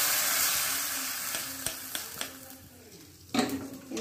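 Tempered shallots tipped into an oil-free fish curry set off a loud, close frying sizzle that settles into a steady crackle, with light clicks of a spoon against the pan and a fresh surge of hissing near the end.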